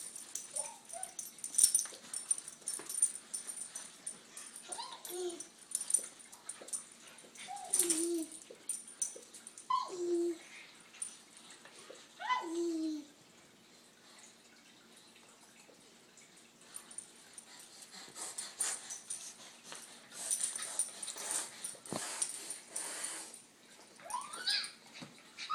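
A pet dog named Chai lets out soft, high whimpers and short whines in a few separate clusters, close by but quiet, with pauses of near silence between them.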